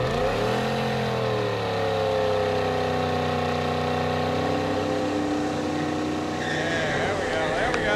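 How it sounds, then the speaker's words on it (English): A Trans Am roars through a second gear burnout, with the engine revving hard and climbing in pitch as the tires squeal, loud and close throughout. "All right, second gear burnout."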